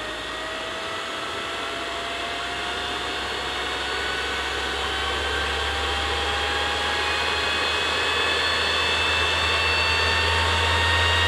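Vacuum blower fitted with an enlarged 155 mm impeller runs alone as a steady, loud whine and rush that slowly climbs in pitch and strength over the whole span.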